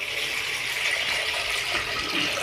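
Half a liter of water poured onto starch and sugar for homemade ice cream, a steady, loud rushing gush that holds constant throughout without a break.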